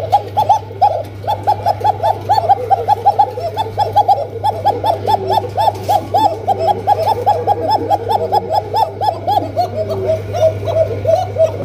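Pigeons coo in a caged display, a dense, continuous chorus of rhythmic rolling coos from several birds, close and loud over a low steady hum.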